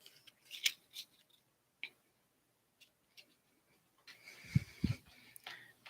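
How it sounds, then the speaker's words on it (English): A deck of cards is handled and turned, with quiet scattered clicks and light snaps in a near-silent room and a short burst of soft shuffling and thumps near the end. "Now I've reversed half these cards."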